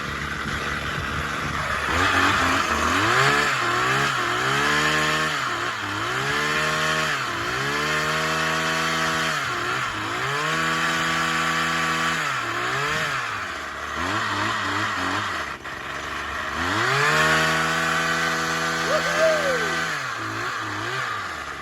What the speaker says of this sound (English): Let's give this bad boy a quick rev up.